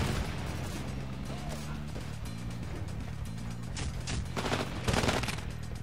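Dense, rapid gunfire rattles through a Titanfall attrition match, bursts and volleys overlapping continuously and loudly, with a louder cluster near the end.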